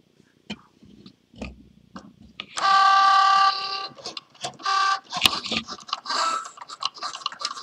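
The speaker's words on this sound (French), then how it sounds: "la machine ne fait que le contour de notre petite pomme" A Cricut Joy cutting machine cuts the outline of a hand-drawn apple. Close, whirring motor bursts start and stop with short ticks and clicks between them, with steady sustained runs in the middle.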